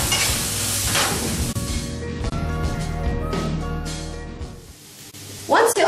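Onions and curry leaves fry in a pan with a steady crackling sizzle and intermittent stirring scrapes, close and fairly loud, while a voice talks intermittently over it and a brief louder clatter comes at the end.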